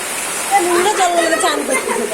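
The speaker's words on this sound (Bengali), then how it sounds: "বড় বালতিটা ওখানে দে, জল ভর্তি হবে" Water pours into a large bucket with a steady, close rushing splash that runs the whole time, while people talk over it.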